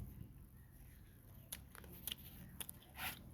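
Fresh Apamarg leaves being chewed up close, with faint, irregular crunchy bites and moist crackles over a quiet background, several bursts in a few seconds.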